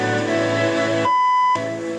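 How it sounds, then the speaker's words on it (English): A car stereo gives a single steady electronic beep for about half a second while its balance is adjusted, cutting through continuous music that briefly drops out around it. "We're going to let it beep once."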